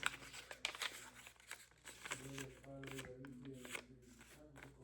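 Sheets of paper are creased and folded by hand for a craft tutorial: soft crinkles, sharp rustles and brisk sliding strokes come close and fairly quiet, repeated over several seconds in a small room.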